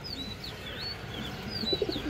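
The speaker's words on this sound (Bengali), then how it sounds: "খুবই সুন্দর একটা মাদি কবুতর মাশাআল্লাহ" A female pigeon at a pigeon seller's coos softly in a low rumble under steady background noise, while thin high chirps of other birds drift in from farther off.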